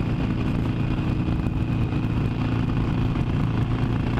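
A loud, steady Harley-Davidson 883 Iron motorcycle engine rumbles close by on a highway ride, a continuous low throbbing drone with no talking over it.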